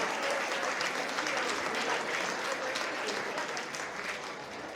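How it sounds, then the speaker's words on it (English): A gala audience claps in sustained, dense applause that fills the room evenly and fades slightly toward the end, with no voices over it. "So give yourselves a big round of applause."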